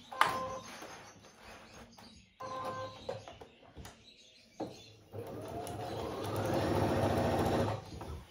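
A sewing machine stitches a bag lining with short bursts of close, steady mechanical whirring, then one longer run of stitching. There are brief pauses between bursts and no talking.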